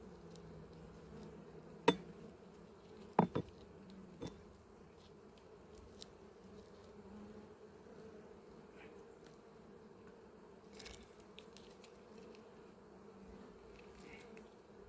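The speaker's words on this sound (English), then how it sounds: "These are very calm bees, like I keep saying, if they are queenless." Calm, queenless honey bees buzz around an open hive frame in an apiary, a soft continuous drone with a few sharp knocks and clicks near the start. The sound is quiet, with no voices.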